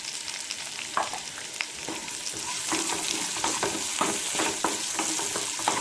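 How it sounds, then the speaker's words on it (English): Chopped onions fry in a pan for a spicy Kerala black chickpea curry, a dense close sizzle growing slightly louder, broken by repeated scraping stirs with a spoon. "next I'm going to add the chopped onions,"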